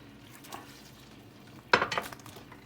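Tilapia slices drop into simmering coconut milk in a pot for ginataang tilapia, a soft stir near the start then a sharp splash and burst of bubbling sizzle that fades over a second.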